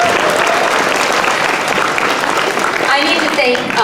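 School audience applauding for the administrators at a Christmas chorus event, a loud continuous burst of clapping with some voices mixed in.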